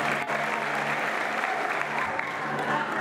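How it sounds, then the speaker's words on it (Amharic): Church congregation at a prayer service applauding, a sustained wash of many hands clapping together, fairly loud and steady, with a low voice murmuring underneath. "አጨብጭቡ ለጌታ ተባረኩ።"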